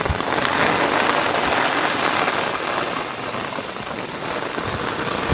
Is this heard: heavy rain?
yes